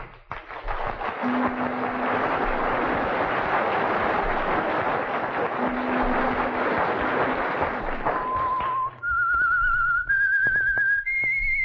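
A whistled theme for The Whistler, an old radio mystery drama, plays over loud orchestral music, ending in a series of clear, sustained whistled notes that climb step by step.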